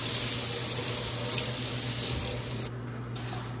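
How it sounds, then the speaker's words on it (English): Cool tap water runs steadily into a sink to rinse a beeswax food wrap, a continuous close splashing stream that eases slightly near the end, with no talk. "Turn on some cool water, use a sponge, give it a little rinse"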